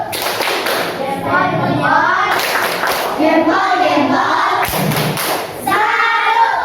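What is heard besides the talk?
group clapping a salute clap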